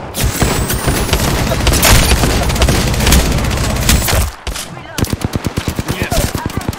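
Dense, loud gunfire in the Apex Legends video game, with heavy booming shots first, then a rapid rhythmic burst of automatic fire after a brief gap.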